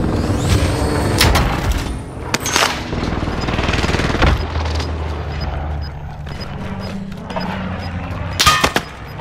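Rapid gunfire and bursts of explosions in Call of Duty: Modern Warfare multiplayer, loud sharp cracks at the start and a heavy boom near the end, with low rumble in between.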